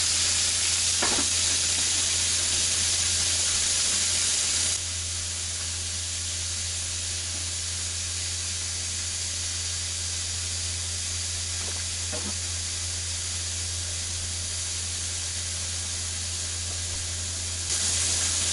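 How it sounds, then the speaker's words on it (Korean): Flat iron beef steak sizzles in oil in a pan, a loud, steady, hissing fry that holds for the whole stretch with a couple of faint clicks. "적당 익은 것 같으니까 고기를 뒤집어 보도록 하겠습니다 기름도 계속 둘러가면서 컨트롤 해주시면 좋을 것 같아요"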